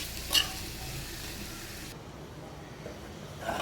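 Jackfruit seeds frying in a pan produce a soft, even sizzle. A clear stirring clack comes near the start, the hiss drops lower partway through, and another scrape sounds at the end.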